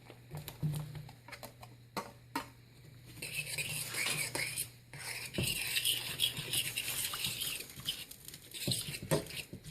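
Onions are stirred into cube steak gravy in a pan. A spoon clatters and scrapes against the metal, then a steady wet sizzle and patter build beneath the ongoing stirring, close and fairly loud.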